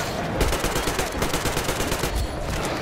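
Rapid, continuous automatic gunfire from a gun in the Metro Exodus video game, loud and dense throughout with no pauses.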